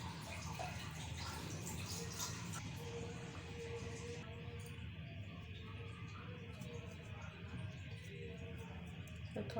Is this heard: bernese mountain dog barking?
no